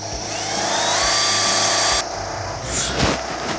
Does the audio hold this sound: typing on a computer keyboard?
no